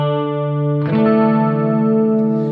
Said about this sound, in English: It's a digital delay. And there you go, it's on.